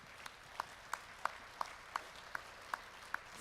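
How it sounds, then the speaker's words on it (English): Faint, slow, evenly spaced claps at the GEEF 2018 forum opening session, roughly three per second, sounding sparse and distant, like only a few people in the audience clapping. "So we'd like to give a big round of applause to Mr. António Guterres, of course."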